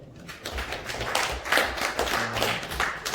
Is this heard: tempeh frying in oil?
no